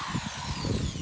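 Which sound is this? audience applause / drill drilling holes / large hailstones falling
drill drilling holes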